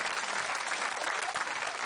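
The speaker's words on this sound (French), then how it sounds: "On peut l'applaudir." A studio audience on a French entertainment show applauds a young woman volunteer as she is invited up, a dense, steady wash of clapping at close range with no break.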